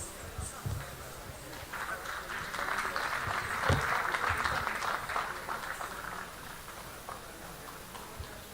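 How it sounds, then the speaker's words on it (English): An audience at the 28th National Conference on e-Governance applauds in a moderate, steady burst that swells in the middle and fades, with some faint background sounds. "I think they deserve a huge round of applause."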